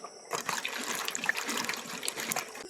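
Jujube plums are washed by hand in a bowl of water. After a short quiet start, steady swishing and splashing continues close by, with no talking.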